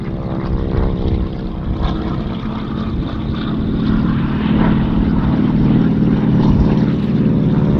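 Twin-engine World War II warbird with Pratt & Whitney engines and variable-pitch propellers passing at an airshow, a loud steady propeller drone swelling as it nears, under faint announcer talk.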